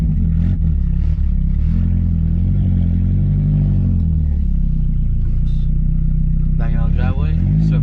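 A Ford F-250 pickup truck, steering crooked and gears grinding, rumbles on its first test drive, a steady low engine drone running throughout, with a short revving rise near the end; voices talk over it.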